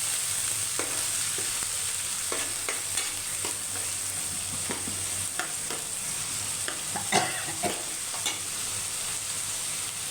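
Ginger garlic paste fries in hot oil with a steady, bright sizzle while a spoon stirs and scrapes the pan in scattered short strokes, close and continuous with no voices.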